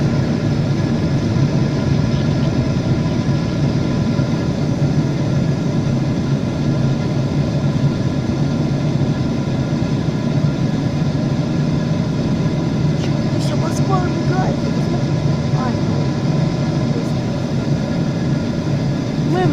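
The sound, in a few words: Emirates airliner engine noise in cabin during takeoff climb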